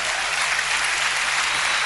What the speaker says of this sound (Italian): Un applauso alla rete di 5 secondi.